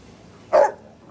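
A single short, loud dog bark close by, a sharp bow-wow lasting about a fifth of a second against quiet surroundings.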